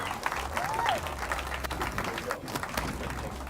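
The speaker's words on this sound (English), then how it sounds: "A big round of applause." Applause from a crowd at the weigh-in of a Skeeter Bass Champs fishing tournament on Lake Ray Roberts, a steady wash of clapping that runs throughout with a voice over the top.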